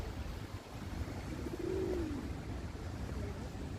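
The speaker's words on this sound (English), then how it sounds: "And I can hear an amorous pigeon here courting." Courting pigeon on a street in Larnaca, Cyprus, giving a single soft rolling coo partway through, faint beneath steady outdoor background noise.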